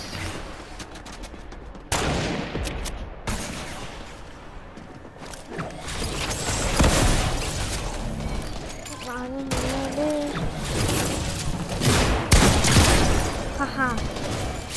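Gunfire in Fortnite gameplay comes as bursts of rapid shots and booming impacts, loud and close, and a voice talks intermittently over the action.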